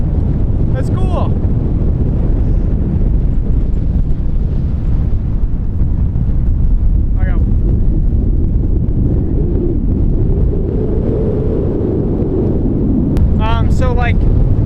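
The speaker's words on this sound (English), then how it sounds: "But then you step up here, and obviously it's super windy and it's cool." Strong wind blasts across an exposed sand dune ridge at Kelso Dunes in California's Mojave Desert, roaring and buffeting the microphone continuously and loudly throughout, with brief faint voices poking through.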